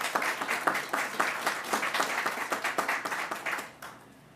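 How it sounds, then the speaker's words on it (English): An audience at a New York COVID briefing applauds with dense, close clapping that holds steady for several seconds, then quickly fades out. "Let's give them a round of applause."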